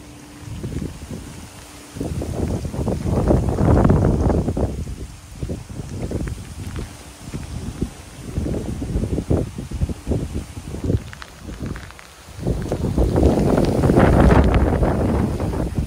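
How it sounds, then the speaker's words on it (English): Strong wind from Hurricane Nicole in central Florida gusts hard against the microphone in rumbling surges. Loud buffeting bursts swell and fade over several seconds, separated by brief calmer lulls. "huge gusts."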